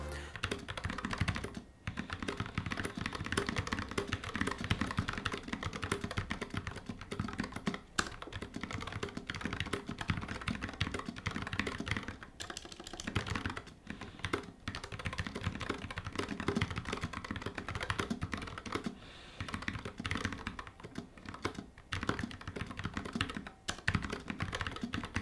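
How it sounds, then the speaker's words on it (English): Steady, continuous typing on a Motospeed BK75 low-profile mechanical keyboard, dense soft clicks and taps close up, fairly quiet, with no talking. "I found myself being able to really comfortably glide all over the keyboard and type really smoothly"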